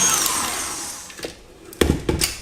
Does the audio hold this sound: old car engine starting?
no